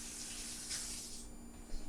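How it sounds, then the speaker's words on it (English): Tap water runs steadily and quietly into a kitchen sink while hands are rinsed under it, a soft continuous splash with a brief swell partway through. "wash my hands"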